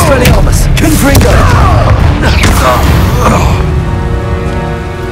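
A Confringo explosive spell from Hogwarts Legacy, heard as a loud booming blast amid chaotic duel effects with a voice shouting spell names, and the noise settles into a fading rumble.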